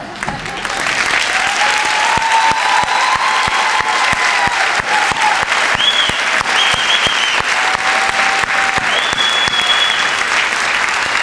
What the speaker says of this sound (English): if we could give an extra loud round of applause to these few that are left